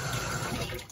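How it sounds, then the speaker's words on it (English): Water runs from a tap into a fencing mask being washed, a steady rushing fill with a slight gurgle, close and continuous with no voices. "As it fills, I can just sort of move this around a little bit, get the water coming in and out a little bit."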